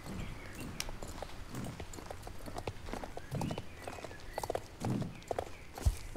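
Horse hooves clip-clop at a walking pace while riding in the video game Star Stable Online, a steady run of distinct beats that grows louder in a few heavier thuds near the end.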